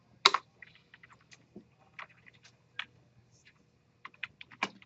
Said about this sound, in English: I've tried typing 9 3 times